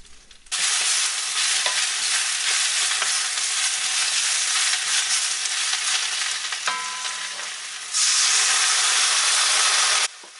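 Spinach stir-fries in hot oil in a pan with a loud, steady sizzle and hiss, briefly dipping as a spatula turns the leaves, then flaring again before stopping abruptly.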